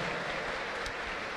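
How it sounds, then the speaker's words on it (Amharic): A church congregation stands applauding with ululation, a dense, loud, continuous wash of clapping filling the whole moment. "ተነሰን ቆመን እልልታና ጭብጨባ"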